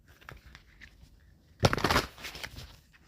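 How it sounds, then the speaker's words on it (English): An oracle card deck being shuffled, a brief close riffle of papery flutters in one burst of about half a second, preceded by faint soft handling noises, with no talking. "Let's go on ahead and just give Woodland Wardens a little shuffle."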